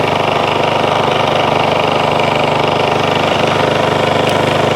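A generator engine running on auto idle, readied with fans ahead of Hurricane Dorian, drones steadily and close, its broadband hum holding even through the clip with no voices over it.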